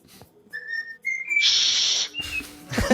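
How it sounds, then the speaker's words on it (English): A pet parrot whistles a short, bright tune of several high notes from a Real Madrid anthem, ending in a loud sustained shrill whistle, with a brief noisy burst after. "it is his pet parrot who is whistling a popular Real Madrid anthem"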